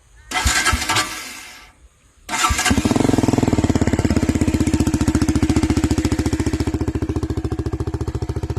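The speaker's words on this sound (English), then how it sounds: "So let's start the bike." A KTM Duke 200 motorcycle engine cranks in two short bursts, then catches and settles into a loud, steady, close-up idle with a fast even thump.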